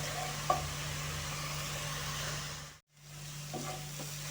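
A soft, steady sizzle and simmer of cabbage stewing in a covered pan, with a faint clink near the start and a brief drop to silence midway.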